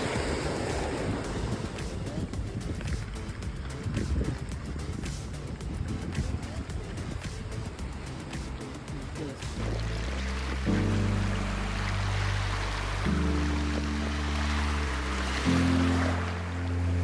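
Waves washing onto a small beach at Bar Harbor, Maine, a broad continuous surf roar with gusty wind noise on the microphone, joined in the second half by steady low musical tones.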